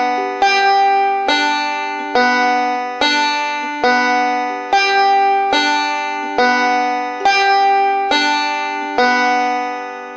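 A backward roll picked on strings 1, 2 and 5 of a banjo, with ten evenly spaced bright plucked notes in a steady rhythm, each ringing clear and close with no talking.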